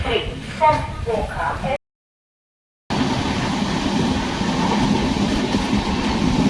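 A Konkan railway train pulls into Udupi station, a steady rumble and rolling wheel noise, loud and close, with a brief dropout partway through and a voice over the start.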